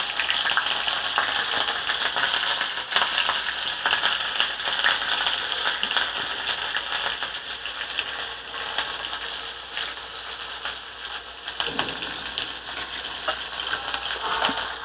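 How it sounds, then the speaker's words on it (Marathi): About a dozen green chillies fry in oil with cumin seeds over a low flame for a roasted poha chivda, giving a steady, close crackling sizzle that runs unbroken for the whole stretch, with no voices. "मिरची पण व्यवस्थित तळली गेली पाहिजे"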